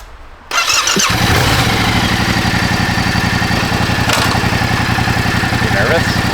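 A motorcycle engine fires up after a brief quiet start and settles into a loud, close, steady idle with an even pulsing thrum, a short rev-like burst sounding partway through.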